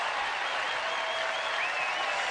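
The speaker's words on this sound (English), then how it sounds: "They are roaring in the Reds dugout." Crowd cheering and roaring at a Reds spring training baseball game against Cleveland, a steady dense wall of applause and shouts that holds loud throughout without breaks.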